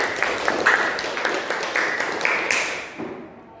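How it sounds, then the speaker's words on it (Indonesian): A class of schoolchildren claps in a loose, uneven patter of separate hand claps and taps, fairly close, thinning out and stopping near the end. "Tepuk tangan untuk kita semua, anak-anak"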